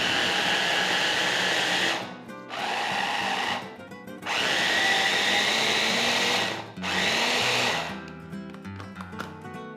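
Food processor whirring in loud bursts as olive oil is blended into a sauce, motor running in three long stretches with short pauses between, followed by quieter clatter at the end.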